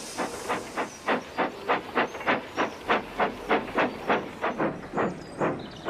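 A steam tram puffs in steady, evenly spaced chuffs with a hissing edge, about a dozen beats over several seconds, moderately close and with no voices.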